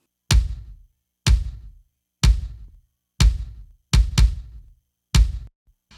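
Two kick drum samples layered into one punchy hit for an 80s rock mix, playing alone in a steady pattern of seven strikes with a quick double near the end, each a loud thud with a brief tail.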